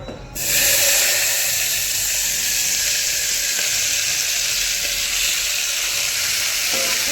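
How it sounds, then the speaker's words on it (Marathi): Vegetables for pav bhaji fry in hot oil, giving a steady, loud, close sizzle that starts abruptly and hisses evenly throughout, with faint stirring underneath and no talking. "या भाज्या मी तेलात थोड्याशा फ्राय करणार आहे"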